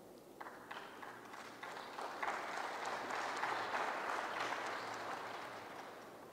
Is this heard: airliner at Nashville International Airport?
no